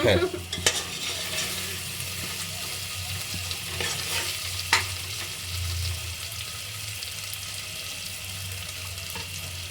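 Tomatoes fry in a pan for chicken pulao, giving a continuous close sizzle with a few sharp scrapes and knocks of a spoon stirring, no talking.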